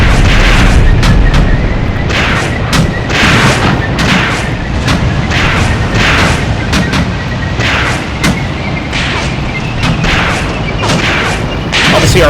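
Tank cannon and gunfire in the WWII game Tank Warfare Tunisia 1943, a steady rapid series of loud booms and sharp shots over a rumbling battle din, with faint talk here and there.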